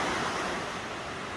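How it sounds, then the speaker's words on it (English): Steady rain falls through a lush forest in the Otways near Apollo Bay, a dense, even hiss of drops on foliage filling the whole moment with no voices. "It is raining, and it's been raining like the whole time."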